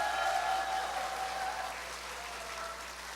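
A church gathering's audience claps in a steady, continuous wash of applause that fades slightly over a few seconds, heard from a distance in a large room.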